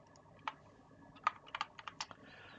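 Someone types on a newly adopted computer keyboard while coding a Unity remake of the arcade game Defender: a scattered run of sharp, close key clicks, sparse at first, then a quicker cluster, with no talk.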